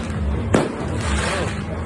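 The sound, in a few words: sidewinder fireworks going off at New Year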